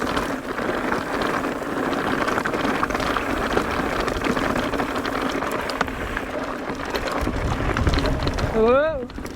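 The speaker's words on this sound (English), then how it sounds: "Whoa, windy." Strong wind roars steadily across an open mountain bike trail in the Moab desert, a loud broadband buffeting that sweeps over the microphone throughout, with a brief rising whistle near the end.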